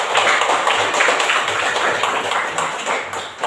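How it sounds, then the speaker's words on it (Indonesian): Students in an Indonesian classroom clap for a group's presentation: continuous, busy applause from many hands, even in loudness and nearby, without voices on top. "Tepuk tangan mereka."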